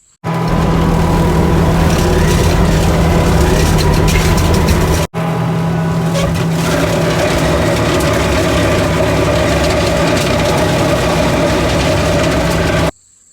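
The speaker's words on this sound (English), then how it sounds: "So I rented this fucking skid steer for the weekend." A rented skid steer idles loud and close with a steady low diesel drone and a constant hum, broken by one brief cut about five seconds in before the same rumble resumes.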